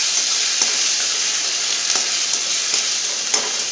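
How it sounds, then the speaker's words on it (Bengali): Ground ginger and chilli paste fries in a kadai while dal puri is being made, giving a constant close hiss of sizzling oil broken by a few faint stirring taps. "এরপর দিয়ে এটাকে ভালো করে একটু কষিয়ে নেব"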